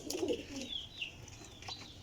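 A Teddy flying pigeon coos nearby, a soft throaty call early on followed by a few fainter coos and chirps, with no talking.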